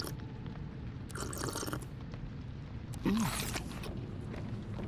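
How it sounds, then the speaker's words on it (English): Subnautica: Below Zero plays a crunching eating sound in two short bursts of crisp, crackly chewing. A low ambient game drone continues underneath. "Crunching noises."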